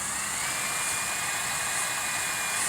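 A power drill bores steadily into a PVC end piece for a homemade club, a sustained high whining hum with a faint pitch line, loud and close, running unbroken without speech.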